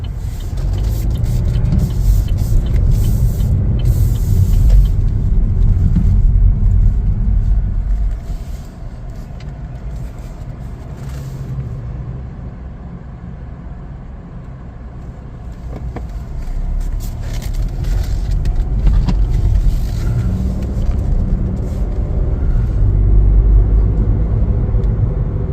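A 2026 Chevrolet Trax 1RS rumbles along from inside the cabin as it pulls out onto a main road, a steady low road and engine drone that swells, eases back, then builds again, with no voices.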